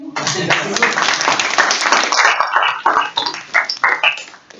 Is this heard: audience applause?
yes